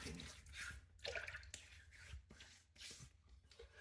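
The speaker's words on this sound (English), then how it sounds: "So I'm going to wet my face now." Water splashes at a hotel sink as a face is wetted before shaving, with irregular close splashes and drips in quick bursts and no talking.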